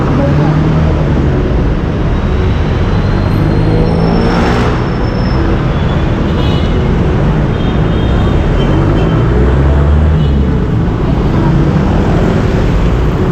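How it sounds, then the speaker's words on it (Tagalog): Dense, loud traffic roar of many motorcycles running continuously near an LRT terminal, a busy street rumble that never lets up, with a faint voice somewhere in the mix. "Daming motor."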